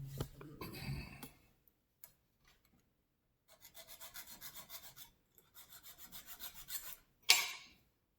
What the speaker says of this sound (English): So what you do is you take a file.